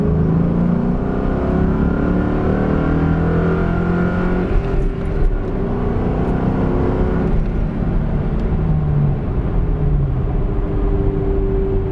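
A 2003 Ford Mustang GT with its V8 pulls hard from inside the cabin, a loud, continuous engine drone rising through the gears with brief shift dips and no talk.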